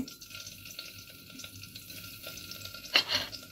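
Sprouted fenugreek stirred into hot oil for a tempering, giving a faint steady sizzle with a louder splash near the end, no talk.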